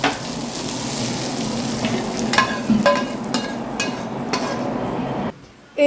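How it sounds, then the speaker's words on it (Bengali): Cauliflower and potato frying together in a pan, a steady loud sizzle with occasional sharper crackles and stirring scrapes, cut off abruptly near the end. "ফুলকপি আলু একসঙ্গে ভাজা ভাজা করে আমি নামিয়ে নিচ্ছি"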